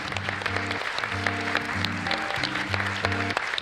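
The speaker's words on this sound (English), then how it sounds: "Round of applause for our panelists." A live podcast audience applauds the panelists, with steady, dense clapping throughout, fairly close and continuous, over a faint tonal hum from the room.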